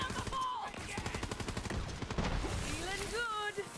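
Rapid bursts of gunfire from the Borderlands 3 video game, with dense repeated shots across the clip and a voice talking over part of it.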